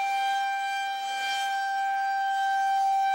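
An outdoor storm warning siren sounds in a loud, sustained steady tone with strong overtones, holding its pitch through the whole stretch with a slight swell in level and no voices.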